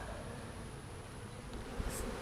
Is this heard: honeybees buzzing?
yes